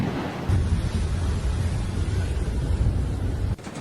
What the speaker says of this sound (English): A powerful downpour, hurricane, and even hail.